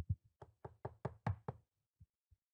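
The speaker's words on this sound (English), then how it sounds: "I'm standing at the door and knock." Knocking on a door: a quick run of about seven sharp, close raps, followed by two or three softer, spaced knocks, with no voices.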